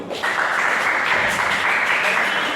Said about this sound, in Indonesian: jadi luar biasa, tepuk tangan dulu